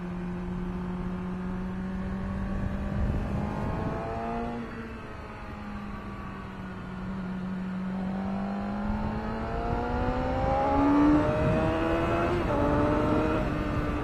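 Yamaha R6 sport motorcycle ridden on twisty roads, its high-pitched engine climbing steadily through gears with short dips at shifts, a continuous loud whining rev close by throughout.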